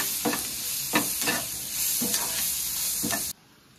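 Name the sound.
onion and eggplant frying with salt and turmeric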